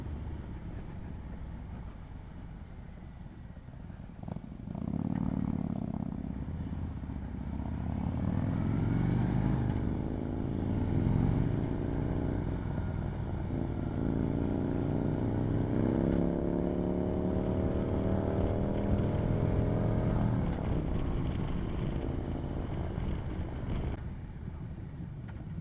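A 2018 Harley-Davidson Road Glide Special motorcycle rolls at low speed with a steady deep engine rumble and gently shifting revs, heard from onboard with wind noise and no talking.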